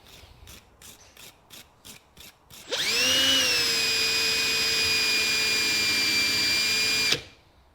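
Ford Capri V6 spark plugs being cleaned: a few short rhythmic scrapes, then a steady, loud whirring whine that runs for about four seconds before cutting off abruptly.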